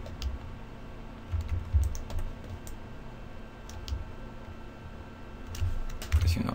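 Computer keyboard typing with scattered key clicks and a few heavier presses like Enter, close and fairly quiet against a low hum.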